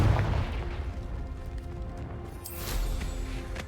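Fire-explosion spell blast in the Hogwarts Legacy video game, a dense low boom rumbling for a few seconds with a second burst swelling near the end, loud and continuous.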